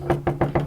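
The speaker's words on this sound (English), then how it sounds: "That was the most pathetic little knock." Four light knocks tapped on an object in a supposedly haunted place in Ireland, evenly spaced and fairly close, with a faint steady hum underneath and no talking.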